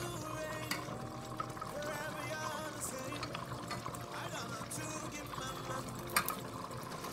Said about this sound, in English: So now that the fish is out, I just put some water, not too much, just enough to cook your yam.